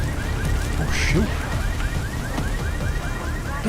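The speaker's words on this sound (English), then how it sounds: "I expect the car alarms to go off." A car alarm in the video game Deus Ex: Mankind Divided blares loudly with a repeating warbling, chirping pattern, cycling rapidly and continuously over dense background noise.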